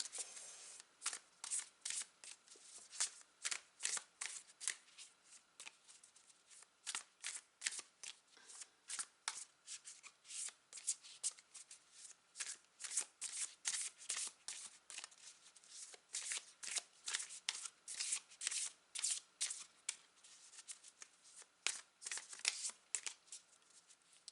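Tarot cards are shuffled at length before one is drawn, giving a long run of soft, close riffling slaps in uneven bursts, faint and steady, with no speech.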